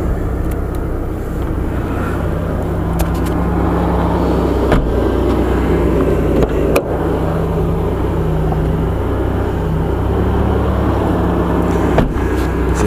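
An old red vehicle's engine idles steadily nearby, a continuous low droning rumble with a few faint clicks and knocks over it, and no one speaks.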